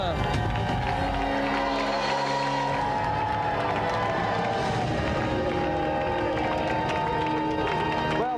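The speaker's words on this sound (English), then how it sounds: "Another round of applause for Phil, Scott and Sam." A television studio audience at a game show applauds and cheers, a dense continuous wash of clapping and crowd noise filling the whole stretch, loud and close, with a presenter's voice running over it.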